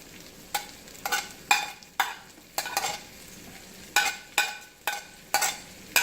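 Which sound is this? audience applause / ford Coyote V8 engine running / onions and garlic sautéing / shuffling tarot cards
onions and garlic sautéing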